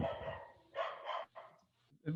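A pet dog in a house barks several times in quick sharp bursts, close and fairly loud, with short gaps between barks.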